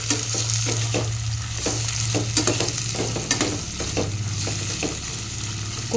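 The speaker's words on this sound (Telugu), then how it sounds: "ఇవి బాగా వేగుతూ ఉండాలి, ఇంకా వేగాలి." Boneless mutton fries in a pressure cooker with a steady, close sizzle, overlaid by repeated scraping and stirring strokes of a spatula against the pot, with no talking.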